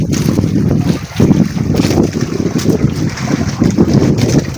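A boat rocks on rough, storm-driven waves while wind buffets the microphone, producing a loud, constant rushing roar with surging swells.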